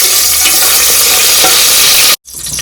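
Raisins fry in hot ghee, sizzling loudly and steadily while a spoon stirs through them, then the sizzle cuts out abruptly for a moment before returning more softly.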